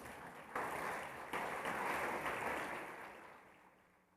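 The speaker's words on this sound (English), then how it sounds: "Please give them a round of applause" An assembly at the opening session of an OAS General Assembly applauds a steel orchestra, a broad, somewhat distant wash of clapping that swells, holds and then fades away.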